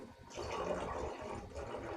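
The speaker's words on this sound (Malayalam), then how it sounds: "രണ്ട് പാത്രം വെള്ളം ഒഴിക്കാം" Water is poured from a container in a steady, rushing splash lasting about two seconds, fairly close and with no voices over it.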